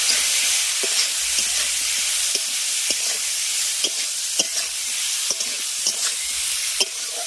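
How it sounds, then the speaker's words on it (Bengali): Continuous oily sizzle of bitter gourd frying with salt and turmeric in a pan, with regular scraping stirs and spatula taps cutting through every second or so. "লবণ আর হলুদ দিয়ে উচ্ছেটাকে ভেজে নেব"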